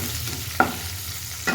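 Mustard seeds, cumin, curry leaves and green chilies hit hot oil for tempering. The result is a steady close sizzle with a couple of brief sharp crackles and stirring, and no voices.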